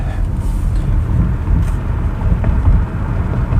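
A 2022 Ford Mustang Mach-E electric car pulls away on a rough road, a loud steady low rumble of tyre and road noise with wind buffeting, no speech.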